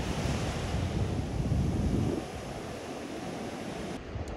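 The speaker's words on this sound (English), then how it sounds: "I'm at the beach again" Surf and wind roar at a beach, loud and close. The breaking-wave wash is heaviest for the first two seconds, then eases into a steadier, softer rush with constant wind buffeting.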